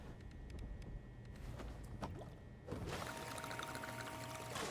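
Water collected in the game Crime Scene Cleaner: a steady pouring, filling rush sets in partway through and runs to the end, loud and close, following a stretch of quieter clatter and handling noises.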